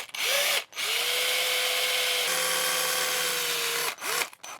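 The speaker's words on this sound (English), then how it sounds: "I've drilled 2 holes really close to each other" A power drill bores holes into a balsa wood fishing lure body, a steady whirring hum running for several seconds, briefly stopping and restarting near the end, close and alone without talk.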